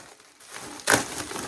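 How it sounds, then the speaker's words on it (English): Paper wrapping is pulled from a tightly wrapped book, a soft rustle building into one loud crinkling crunch, then continuing faintly, close to the listener. "this one is wrapped up nice and tight. I want to keep this wrapping paper."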